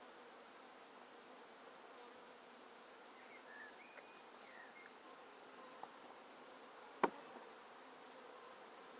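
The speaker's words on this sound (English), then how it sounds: "We've got the bees into the box now." Honey bees hum softly inside a wooden pagoda hive box, a faint, steady drone throughout with one sharp knock near the end.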